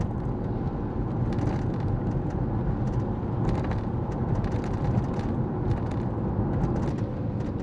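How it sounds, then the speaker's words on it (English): A 1998 Mercedes SL 500 R129 on a test drive gives a steady, dense rumble of engine and road noise that holds constant throughout, with no talk over it. "today we're going to go for a test drive in my 1998 Mercedes 500 SL."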